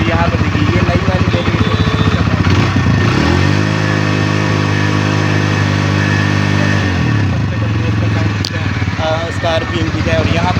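A new Hero Xtreme 160R 4V motorcycle idles in neutral, its steady, loud engine note running throughout with a brief rev in the middle. Someone talks over it.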